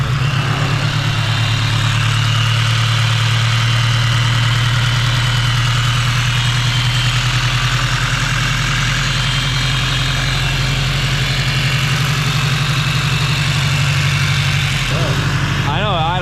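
An 8th-generation car engine, due for a valve adjustment and showing a check-engine light, runs steadily with a loud, close, low rumbling idle; a brief rev swells near the end.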